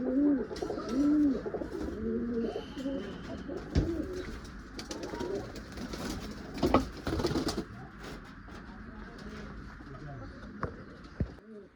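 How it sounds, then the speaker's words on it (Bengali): Several pigeons, including a white-eyed, white-beaked hen of the Malwai breed kept for sale, coo in repeated low warbling phrases nearby, with someone talking over them and occasional sharp knocks. "এই হচ্ছে মাদি পায়রা, সাদা চোখ সাদা ঠোঁটের মধ্যে আছে।"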